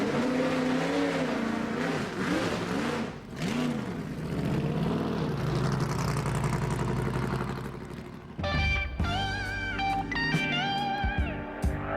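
A Le Mans race car engine running, revving and surging with rising and falling pitch, then a sharper, brighter stretch of harmonic engine whine near the end, moderately loud and without talk.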